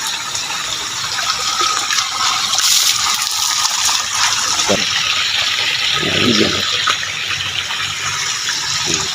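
Water flows and gushes steadily at a natural bathing spot in Teresa, Rizal, a continuous close rushing wash that stays loud throughout, with brief low splashes and faint voices now and then.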